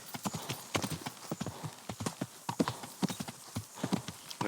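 Horse hooves clip-clop at an easy, irregular walking pace in the medieval game Kingdom Come, close and fairly quiet, with a few soft voice sounds faintly mixed in.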